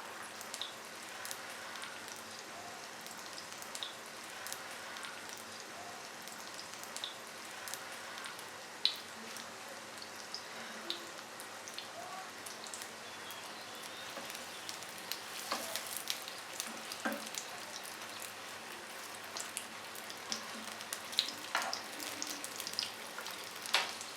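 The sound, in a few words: crepes frying in a pan on low heat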